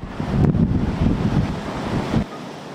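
Strong wind and heavy rain lash a street in Pasay City during a storm, a steady, loud roaring rush with gusting swells that cuts off abruptly near the end.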